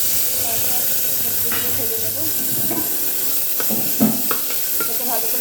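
Vegetables and panch phoron five-spice seeds sizzle and hiss steadily in hot oil as they are stirred, with occasional scraping and clinks close by.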